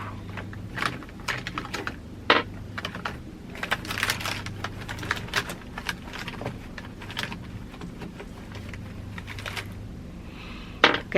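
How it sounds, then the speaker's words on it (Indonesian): Two dice rattled by hand as they are shaken again and again, giving irregular clicky clatters and taps over about eleven seconds, close and fairly quiet, with no voices. "berikutnya aku bakal kocok lagi dadunya"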